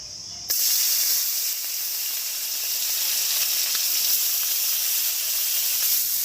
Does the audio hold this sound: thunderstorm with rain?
no